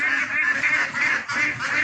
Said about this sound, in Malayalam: നല്ല ഭംഗിയുള്ള താറാവുകളാണ്